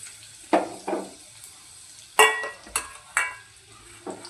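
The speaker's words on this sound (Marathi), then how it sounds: "तर कढईमध्ये सर्वप्रथम आपण तेल तापत ठेवले, त्यामध्ये कांदा टाकूया।" Onion frying in hot oil in a kadhai, with a quiet sizzle broken by a few sharp stirring scrapes and clanks of a spoon against the pan, close and without talk.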